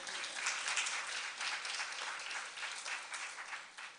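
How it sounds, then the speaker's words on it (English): Steady applause fills a Sunday morning service hall, many hands clapping at once in a dense, even wash that holds for several seconds without a break. "A round of applause again."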